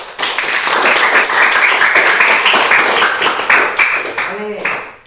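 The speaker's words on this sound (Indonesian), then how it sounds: "Ya, boleh tepuk tangan dulu." Classroom children clap their hands together in a dense, continuous burst of applause that fills the room and fades near the end, with voices mixed in.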